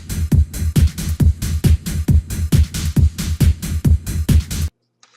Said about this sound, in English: you can see that it has a nice regular beat